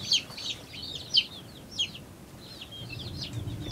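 Bantam baby chicks cheep in a run of sharp, high peeps, several bursts close by, with a low rustle and faint handling noise underneath and no talking.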